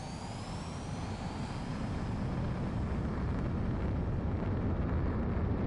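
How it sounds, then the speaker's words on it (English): A fighter jet in the video game Ace Combat 7 roars steadily through its takeoff, a loud, continuous broadband engine rush that holds for several seconds with no speech over it. "Spare 15, you are cleared for takeoff."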